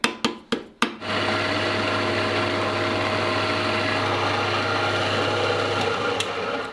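A large German drill press drills steel knife plates for a folding knife, starting with a few sharp knocks and then a steady loud motor whine with cutting noise for several seconds.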